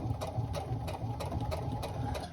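A sewing machine top stitches through the layered base of a tote bag at one eighth of an inch, chattering in quick, evenly spaced pulses at close range with no talk.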